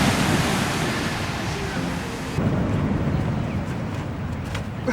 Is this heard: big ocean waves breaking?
yes